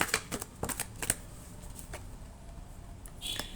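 Tarot cards are shuffled and handled up close, with quick papery flicks and riffles at the start, then softer slides and rustles trailing off.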